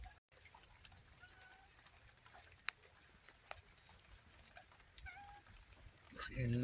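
A pet cat meows a few times, soft and intermittent, in a quiet room with faint background voices and a slightly louder, closer meow at the end.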